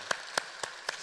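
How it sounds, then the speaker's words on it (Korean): Four sharp, evenly spaced claps in about a second, fairly faint, with no talk over them. They come from a church congregation applauding its choir. "우리 하나님께 영광의 박수, 우리 격려의 박수 부탁합니다."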